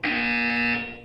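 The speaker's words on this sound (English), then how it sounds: "When you hear the buzzer, look up at the ceiling." A buzzer from the video game Portal 2 sounds once as a loud, steady electronic tone lasting about a second, then fades slightly at the end, with no talking.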